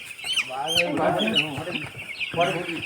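Chickens cluck repeatedly at close range, with sharp calls and busy overlapping clucks for most of the stretch and a fresh burst near the end.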